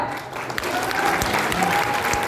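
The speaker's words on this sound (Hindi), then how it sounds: "अरे बंद करो, क्या ताली बस हो गया?" Applause from an indoor audience at a company product launch presentation, a dense steady patter of many hands filling the room for a couple of seconds with little talk over it.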